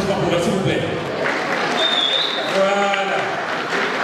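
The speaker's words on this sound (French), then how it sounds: "Un tonnerre d'applaudissements pour elle" Applause for a Miss Ivoire Luxembourg pageant organiser, heard as steady clapping from a crowd that runs the whole time beneath talking and crowd voices.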